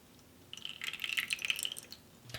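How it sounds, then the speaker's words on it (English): Turkey fat poured from a container into a saucepan, a light trickling and dripping splash lasting about a second, quiet and close with no talk. "I've got about 2/3 cup of the fat there. And I'm gonna just pour that in"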